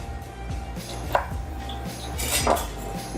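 Lemons are sliced on a board to garnish roasted salmon, a couple of sharp knife knocks and a clink of kitchenware over a low steady hum, no voices.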